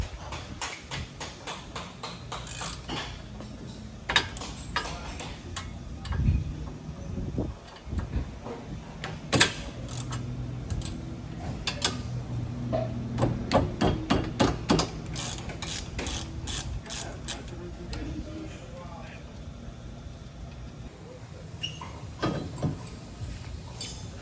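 A 1/2-inch drive socket wrench works on the caliper bracket bolts of a 2001 Mustang GT during a brake swap, with irregular close ratcheting clicks and metallic clanks in bursts.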